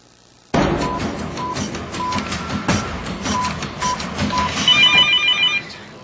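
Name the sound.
telephone ringing with an incoming call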